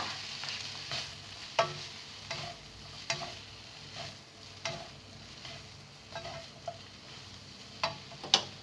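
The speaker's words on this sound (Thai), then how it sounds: "คนทุกอย่างให้เข้ากันนะคะ" Spring roll filling stirred in a frying pan, a soft steady sizzle broken by periodic scraping strokes of the spatula against the pan, with no talking.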